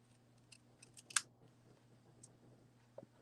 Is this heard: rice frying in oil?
no